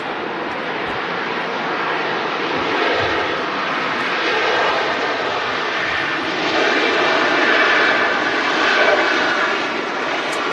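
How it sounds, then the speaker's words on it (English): A Ryanair Boeing 737 jet at Manchester Airport gives off a loud, sustained engine roar that swells slightly and holds steady throughout, with no voices. "The Ryanair 737."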